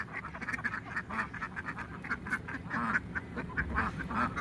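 Ducks quack in a steady, overlapping chorus of repeated nasal calls at a poultry sale, close and moderately loud with no talk over them.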